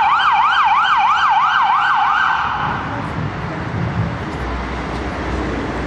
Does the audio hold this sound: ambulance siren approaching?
yes